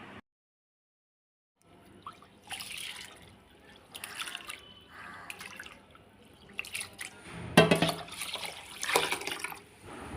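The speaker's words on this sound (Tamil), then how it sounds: "அரிசியையும் தண்ணீர் ஊற்றி நல்லா க்ளீன் பண்ணி அரிசி மூழ்கிற அளவுக்கு தண்ணீர் ஊற்றி ஊற வைக்கலாம்." Soaking raw rice being rinsed in water, with irregular splashes, drips and swishing bursts of liquid close by, separated by quiet gaps.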